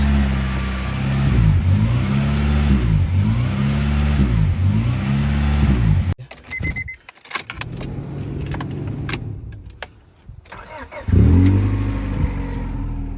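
A 2000 Honda Prelude engine idles steadily during coolant bleeding, with a rhythmic surging hum up close, then a drop to near quiet with clicks and rattles before the running engine noise returns loud.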